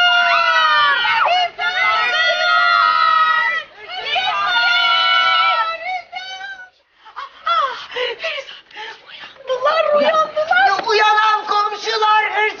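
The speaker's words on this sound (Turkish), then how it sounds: "Yan konaktan komutanım, hırsız var diye bağırıyorlar." A crowd of neighbours shouts in alarm about a thief, loud overlapping cries and yells in bursts, close by, in a Turkish period drama.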